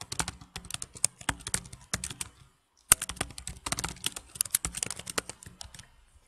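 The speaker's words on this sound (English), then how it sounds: "So let's type some code in here." Code is typed on a computer keyboard, nearby keys clattering in quick bursts of taps with a short pause partway through, then an even stream of keystrokes.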